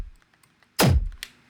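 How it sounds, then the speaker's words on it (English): Synthesized core of a chain explosion sound effect for the game Hyper Light Breaker, built with convolution and distortion: one sharp, heavy thump with a booming low tail, plus a brief crackle just after, against near silence. "that's how I made the core of the explosion"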